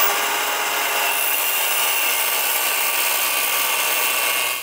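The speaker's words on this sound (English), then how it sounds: "Come on, my Dremel bit, it's just disintegrating to nothing." A Dremel rotary tool's bit grinds hard into a metal fuel injector from an LS engine, a loud, steady, close-up high-pitched whine that runs unbroken before cutting off at the end.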